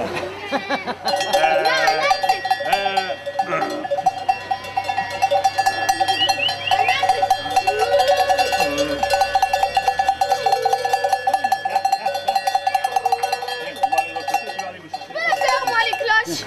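Many sheep bells clang and jangle continuously and loudly, a dense rhythmic ringing, with a voice talking over it briefly.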